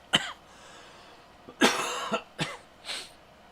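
Several harsh coughs at close range, one sharp and short, then a longer fit and two smaller coughs, with quiet pauses between.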